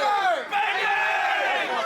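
A wrestling crowd cheers and roars at a WFA Reborn show after a knife-edge chop on the floor, a sustained, dense wall of voices that swells and holds loud across the whole moment.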